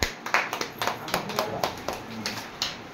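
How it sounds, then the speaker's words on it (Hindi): A fifth-grade math classroom claps together in a steady, evenly spaced rhythm, a dozen or so sharp hand claps at moderate loudness, with faint voices underneath. "ताली मारो"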